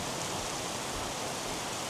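Rain falls steadily at a temple in Kyoto, making a dense, even hiss that stays constant throughout with no voices or other distinct sounds.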